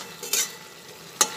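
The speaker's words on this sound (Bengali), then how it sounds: "আবার একটু নাড়াচাড়া করে নিই।" A thick vegetable curry with neem leaves, drumsticks and a spoonful of sugar is stirred in a pan: two distinct scraping strokes over a soft, steady simmering sizzle.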